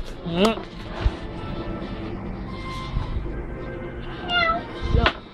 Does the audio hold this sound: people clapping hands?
no